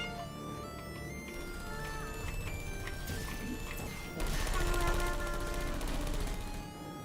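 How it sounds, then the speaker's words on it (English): Portal 2 turrets firing in the video game: dense rattling bursts of gunfire with crashing impacts over a steady mechanical background, louder and busier in the second half. "This next test involves turrets."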